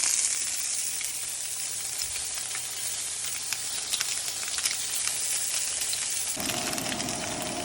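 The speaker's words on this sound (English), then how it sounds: "We got the patties cooking." Burger patties and ramen buns fry together on a hot surface, giving a dense, continuous crackling sizzle with fine pops throughout and a slight shift in tone near the end.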